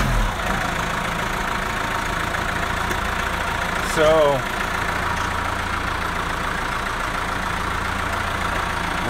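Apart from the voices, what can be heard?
vehicle engine idling in first gear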